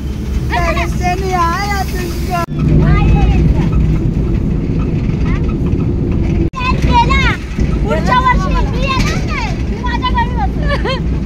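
Loud, steady rumble of a small tempo goods vehicle in motion, carrying passengers, with a group of voices chattering and calling out over the engine and road noise throughout.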